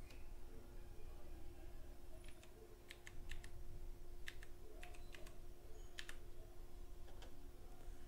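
Keystrokes on a computer keyboard typing a short word into a Windows 10 taskbar search box, appearing as a few quick scattered clicks in small bursts over a steady low background hum.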